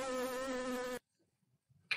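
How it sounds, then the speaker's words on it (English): Bees making honey give off a loud, steady buzzing drone for about a second, then it cuts off abruptly, leaving only a few faint, scattered sounds. "Now over to some bees who are making lots of sweet honey."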